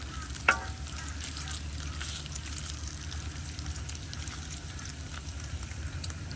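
Bacon sizzles on a hot Suburban griddle, a dense continuous crackle and hiss with scattered pops, close and steady, with one sharper tap near the start and no voices.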